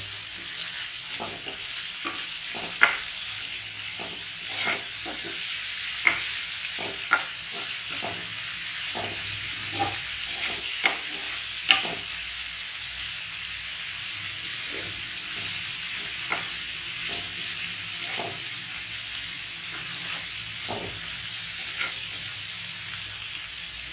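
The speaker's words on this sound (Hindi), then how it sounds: "इसको भी हम लोग फ्राई करेंगे।" A pan of spices and onion paste sizzles and hisses steadily, with scattered small pops and occasional stirring scrapes.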